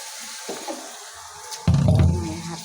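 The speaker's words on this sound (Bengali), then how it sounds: "হাতটা ধুয়ে নিই।" Hands being washed under a running tap in a home kitchen while cooking chicken with bottle gourd, starting as a faint trickle and then turning into a louder, steady close gush of water for the last second.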